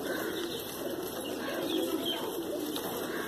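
Pigeons of the kaldumme, nildumme or laldumme kabutar breeds coo in a steady, low, rolling murmur that carries on throughout, close and moderately loud over faint background noise.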